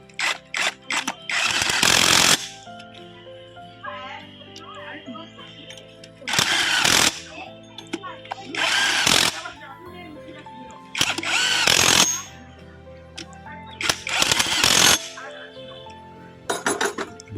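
Power tool tightening 17 mm pinion bolts on a vehicle gearbox during noise-problem repair: five loud, broadband bursts of a few seconds each, separated by quieter gaps with faint metallic clinks and ringing tones.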